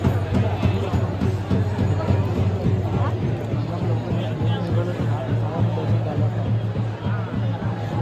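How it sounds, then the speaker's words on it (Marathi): A huge crowd fills the Ghodemukh village fair, a dense, continuous roar of many voices and bustle close around, loud and unbroken throughout. "जत्रेत एकदम तुफान अशी गर्दी झाली"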